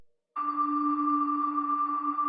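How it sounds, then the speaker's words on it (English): A sustained glassy, bell-like electronic tone with a clean attack, ringing steadily and evenly without fading, close and clear against silence. "Then also added this sort of weird bell glass sound"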